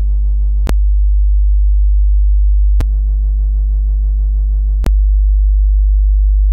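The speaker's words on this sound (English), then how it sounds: "if you listen to the sine wave now, like it's a pure sine wave" A steady low pure sine wave test tone drones continuously and loud, broken by a few sharp clicks where the tone briefly cuts and shifts in timbre.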